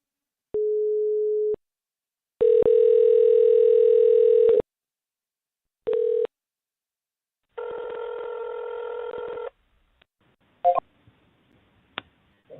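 A telephone dialing out: a few short tones, then a longer dial tone, a quick beep, and a sustained multi-tone signal, followed by faint clicks and blips, loud and clean with no voices.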